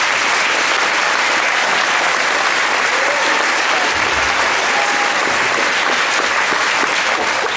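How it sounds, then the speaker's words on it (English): An audience at a local news election debate gives sustained, dense applause for three candidates, steady and loud across the whole stretch with no voices on top. "one last round of applause for all three candidates"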